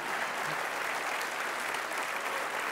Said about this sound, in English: And so we have a big round of applause.